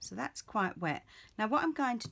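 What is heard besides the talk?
None of the usual background noises is heard.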